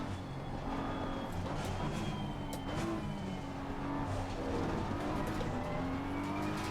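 BMW M4 race car engine in a racing video game, a steady loud drone holding near-constant revs throughout with faint tire noise, no talk over it.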